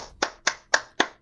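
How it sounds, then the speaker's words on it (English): Four crisp hand claps in an even rhythm, close and dry, each sharp strike decaying quickly, with no voices. "I need a clap sound here."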